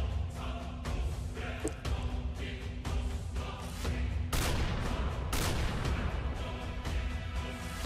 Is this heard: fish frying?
no